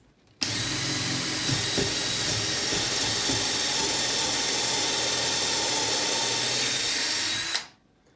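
A cordless drill drilling holes whirs steadily at high speed for about seven seconds, starting abruptly and winding down at the end, close and loud.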